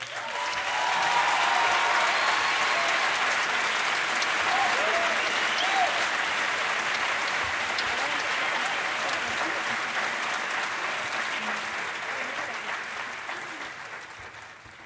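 Sustained audience applause at a live concert, loud and dense from the start and holding steady before slowly tapering toward the end, with no talking over it.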